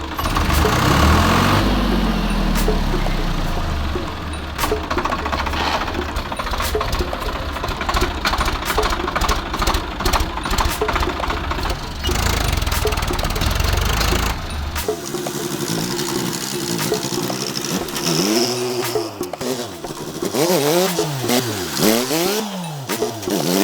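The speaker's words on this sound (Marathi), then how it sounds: "आता बघू थोडं ट्रॅक्टर चालवून" A tractor's engine runs as it is driven around a farmhouse, a steady chugging drone that shifts in pitch. Near the end the engine revs repeatedly and its pitch rises and falls in sweeps.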